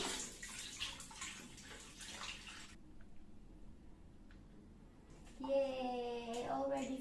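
Water runs from a tap into a condom being filled, a quiet splashing trickle that pauses and then returns with a fuller gurgling rush near the end.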